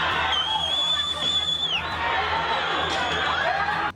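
An unruly crowd of rioting protesters in a city street, a loud, dense roar of many voices with whistles and shouts rising through it, held steady before cutting off sharply.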